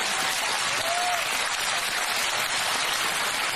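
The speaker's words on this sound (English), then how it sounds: "And also, they clapped." An audience applauds, with steady dense clapping that fills the whole stretch at an even, loud level and no talk over it.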